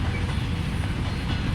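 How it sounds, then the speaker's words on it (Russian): A freight train passing nearby, a continuous low rumble and rattle of rail cars, steady throughout with no voices. "И там грузовой поезд едет."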